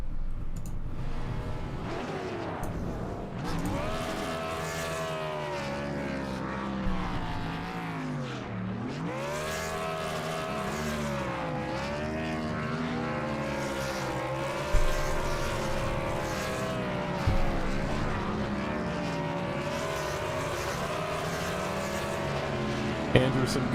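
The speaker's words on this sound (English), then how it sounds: "Teammate Trenton Sneed there to do some burnouts with him." Sim race cars in an iRacing CTC Cup event at Charlotte Motor Speedway do burnouts, their engines revving in long rising and falling wails with occasional tire chirps, while commentators talk throughout.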